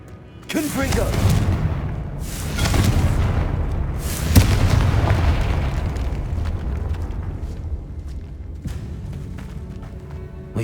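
Confringo explosive spell blasts in Hogwarts Legacy inside an eerie tomb, a series of booming bursts with rumbling low-end tails, the loudest near the middle, with game music and spoken voices running underneath.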